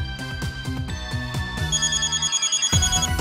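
A phone ringtone in the video game Hyperdimension Neptunia Re;Birth2 rises out of a bouncy music track, a repeating electronic trill that rings loud and steady, then cuts off.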